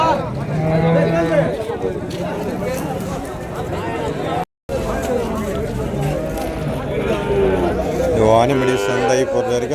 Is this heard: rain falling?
no